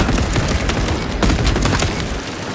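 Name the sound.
fragmentation grenade explosion in the video game Space Marine 2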